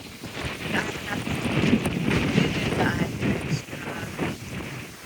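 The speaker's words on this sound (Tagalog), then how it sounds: "Ang lakas ang hangin" Strong coastal wind at Dingalan, Aurora, buffets the microphone in a steady, rough roar with gusty surges, and faint voices sit beneath it.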